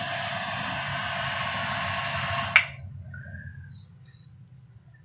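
An electric household water pump motor filling a tank, running as a steady broadband whir that cuts off abruptly with a click midway, leaving faint background sounds.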